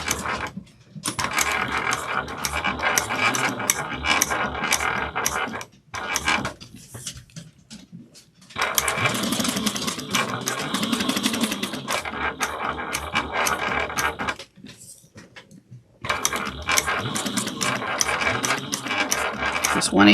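A sewing machine stitching around the edge of a small mini wallet, with long loud rattling runs of rapid needle strokes broken by short pauses, close-up.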